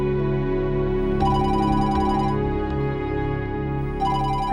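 A telephone ringing indoors, steady sustained tonal ringing in two repeated bursts with a brief gap, loud and close, no voices.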